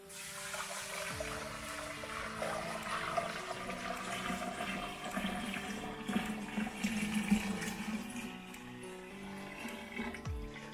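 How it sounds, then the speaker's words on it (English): Sweetened tea and then cool water pour into a container for making kombucha, a continuous splashing, filling stream that carries on for several seconds without talk. "We're gonna pour it in our container, and then we're gonna add the same amount in cool water."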